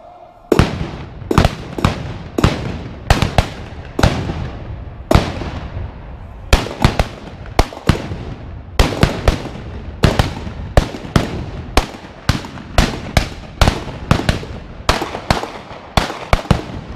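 Böller mortars and salute cannons fire in rapid volleys at a gathering of Saxon shooting clubs, a dense run of sharp, loud booming blasts in irregular clusters, one after another for the whole stretch, with no voices.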